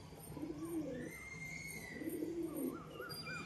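A pigeon coos close by in two soft, throaty rolling phrases, with faint chirps from other birds in the background, and no voices.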